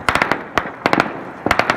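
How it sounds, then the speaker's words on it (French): Celebratory gunfire and fireworks at night in Afghanistan as the Taliban mark the American troop withdrawal: about nine sharp, loud cracks and bangs in irregular quick clusters, with no voices. "coups de feu et feux d'artifice résonnent"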